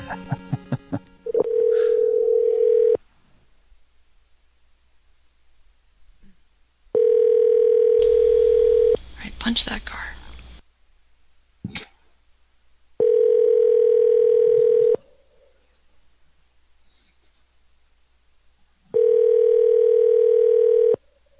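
Telephone ringback tones repeat during a call back, each a loud, steady tone lasting about two seconds, separated by long silent gaps, with a brief burst of other noise partway through.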